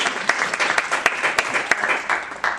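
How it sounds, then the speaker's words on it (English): Audience applause after a question session at a talk, a dense wash of many hands clapping with a few sharper claps standing out, fairly loud and steady throughout. "Applause,"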